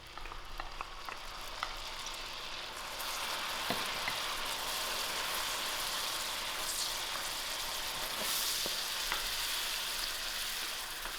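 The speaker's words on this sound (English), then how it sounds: "My butter has melted down, and add in my onions to it." Chopped onions fry in melted butter in a pan, giving a steady close sizzle and crackle that swells after a few seconds and keeps going with no one speaking.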